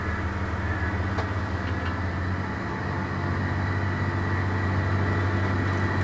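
A very wide tractor on a farm at planting season rumbles steadily while driving, a loud continuous low engine drone with mechanical rattle throughout and no voices.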